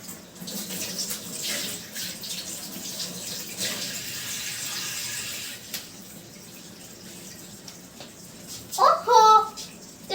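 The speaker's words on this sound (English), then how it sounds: "Oh, turn off the taps, please." Water runs steadily from taps into a basin at a school assembly, a continuous splashing hiss throughout, with a brief burst of a voice near the end.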